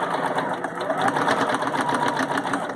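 Embroidery machine stitching a face mask in the hoop, its needle hammering in a fast, even, mechanical pulse, loud and close throughout with no break.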